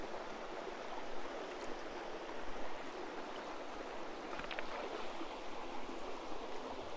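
Steady flowing water of a stream inside a karst limestone cave at Wombeyan Caves, a continuous broadband rush with a couple of faint splashes as someone wades in, no speech.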